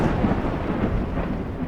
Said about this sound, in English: A rolling moan of thunder